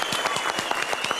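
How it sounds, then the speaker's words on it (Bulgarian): Short burst of audience applause at a live stage show, steady clapping filling the room with a faint murmur of voices underneath. "Аплодисменти, моля."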